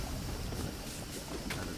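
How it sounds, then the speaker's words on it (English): Wind gusts through a level of the video game Trine 2, a soft steady whoosh with broad airy noise and faint swells, quiet and unbroken. "Oh no, it's windy here!"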